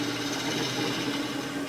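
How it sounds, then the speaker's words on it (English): A wood lathe spins a cherry burl bowl while a spindle gouge cuts, giving a steady, dense mechanical whir with an even hum that runs unbroken at close range. "Go back to the spindle gouge, just kind of give that a nice little,"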